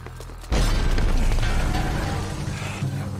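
A cannon blast in the Red Dead Redemption 2 video game lands as a sudden loud boom about half a second in, followed by a sustained rumbling roar that slowly fades over the rest of the clip.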